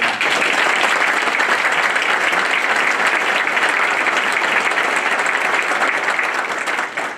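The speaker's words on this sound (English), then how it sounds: "Would you join me in a round of applause for Team?" An audience applauds at a military change of command ceremony, with steady, dense clapping that stays loud for about seven seconds and then trails off briefly at the end.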